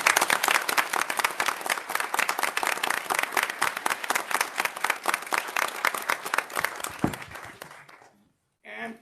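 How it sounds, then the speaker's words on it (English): An audience applauds essay contest winners from schools with steady, dense clapping that fills several seconds, then fades out near the end as a voice comes in. "Let's give you a big round of applause."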